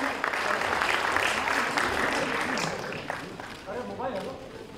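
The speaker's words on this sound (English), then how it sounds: "A huge round of applause, ladies and gentlemen." Audience applause at a music album launch event, a broad wash of clapping that gradually thins out, with voices and crowd murmur mixed in.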